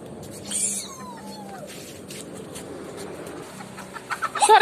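Chickens cluck softly around a yard as a rooster chases the hens, with brief scattered calls, scuffling and a few louder bursts near the end, all at moderate distance.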